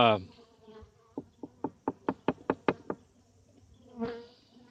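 Honeybees at a top bar hive, heard as a close, quiet series of about eight short buzzing bursts in an even rhythm, followed by one longer drone, with no talking.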